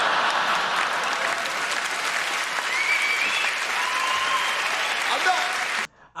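An audience at a Micky Flanagan stand-up comedy show at the Apollo applauds steadily, a thick, even wash of clapping with a few whoops that cuts off abruptly just before the end.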